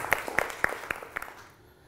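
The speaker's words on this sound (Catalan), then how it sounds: "Porta aplaudiment per la Nora" Sparse, scattered claps from a small studio audience on a Catalan spelling game show, cheering a contestant with a handful of sharp, separate hand claps that thin out and fade.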